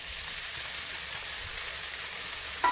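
Chopped banana flower sautés with green chillies, curry leaves and garlic in a hot pan, giving a steady, close, bright sizzle that holds even throughout with a small stir near the end.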